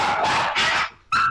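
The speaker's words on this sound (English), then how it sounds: "Shut that dog up, Dan." A dog barking twice nearby, heard over an online video call: two loud, sharp, closely spaced barks with a brief gap between them, alone without talk.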